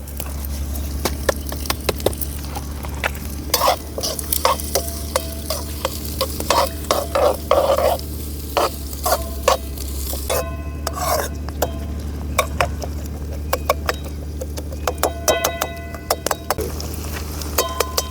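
Onions fry in a pan with a steady sizzle while a spoon stirs and scrapes against the metal in repeated bursts of clinks, close and fairly loud, with no one talking.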